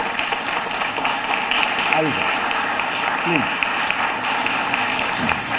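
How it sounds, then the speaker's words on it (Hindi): Studio audience applause greets a guest on a Hindi TV debate show, steady clapping under a voice, with a few brief vocal sounds rising above it. "जोरदार तालियों के साथ स्वागत कीजिए"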